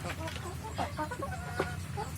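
Chickens clucking in a coop, a steady run of soft overlapping clucks and short calls, close and continuous with no talk.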